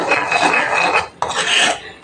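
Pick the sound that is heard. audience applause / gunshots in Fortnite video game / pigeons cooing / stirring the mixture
stirring the mixture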